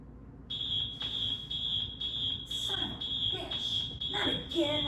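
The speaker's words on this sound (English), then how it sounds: "Come on, fire alarm." A smoke alarm shrills with a steady high-pitched tone, close and continuous, while people talk and move around it.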